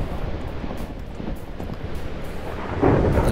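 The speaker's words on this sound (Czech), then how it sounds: "Tady prší" Steady rain with rumbling thunder in the Minecraft video game, a dense continuous wash that swells louder near the end, with no talking.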